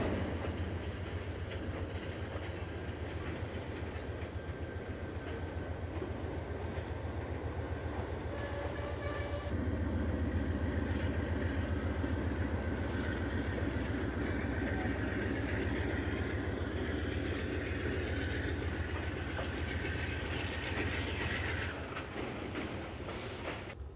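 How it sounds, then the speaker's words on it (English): Norfolk Southern locomotive engines idling at the Shenandoah train yard, a steady loud diesel rumble that holds throughout and swells slightly partway through, with faint rail clatter and no talk. "There's a couple engines running, so that's about it."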